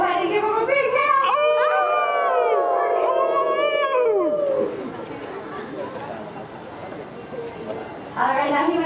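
A crowd at a wolf show imitates a wolf howl, many voices rising and falling in long overlapping wails, then fading into loose cheering and chatter.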